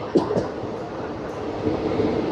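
The 22329 Haldia–Asansol Superfast Express, a non-reserved train with eleven general coaches, rumbles along in a steady low drone with a few soft clanks, while a voice narrates over it.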